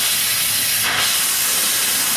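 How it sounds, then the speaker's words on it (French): Steam hisses loudly and steadily from a 1910 Stanley Type R steam car as steam is let through to move off, with a brief surge in the middle. "Je lâche le frein et j'ouvre un peu de la vapeur."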